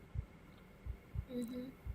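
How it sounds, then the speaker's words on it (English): Heartbeat sound effect in a narrative horror game, four slow, low, muffled thumps at an even pace, faint and alone with a soft hum beneath. "Oh, heartbeat."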